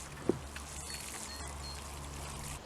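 Water pours steadily from close by onto soil over freshly planted asparagus crowns, a continuous soft splashing stream with one brief knock near the start.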